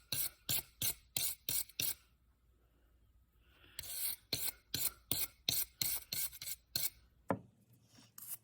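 Sandpaper of 120 grit rubs a rusty old tool in quick back-and-forth strokes, two bursts of rhythmic rasping separated by a brief pause, close and fairly quiet.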